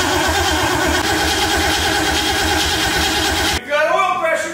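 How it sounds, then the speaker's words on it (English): A slammed, supercharged 1965 Ford Mustang engine cranks over loudly and steadily on the starter for several seconds, then the cranking cuts out abruptly, followed by a voice talking. "I'll crank it till I see oil pressure and then we'll fire up"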